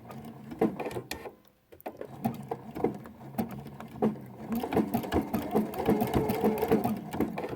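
A sewing machine stitches a decorative stitch on quilt binding, a rapid mechanical patter that pauses briefly, then resumes steadily and grows busier, close and moderately loud with a little background voice.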